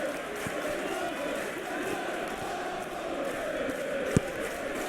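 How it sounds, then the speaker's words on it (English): A football crowd at a Premier League match between Bournemouth and Manchester United gives a sustained rumbling murmur that swells in waves, with a commentator talking over it and one sharp thump near the end. "the crowd are reacting to that now"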